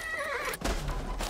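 A horse neighs in Age of Empires IV, a clear whinny with falling pitch followed by a short burst of game noise, close and moderately loud with no voices.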